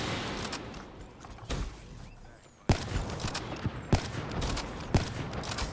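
Gunfire in Black Ops 3 during a sniping match: several sharp shots crack out at intervals over a busy game backdrop, with an abrupt louder burst midway followed by further spaced reports.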